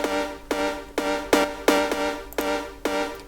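The Tech Stub Minor synth preset, a bright, harmonically rich stab chord struck in a steady pulse about twice a second, each hit decaying quickly, clean and alone.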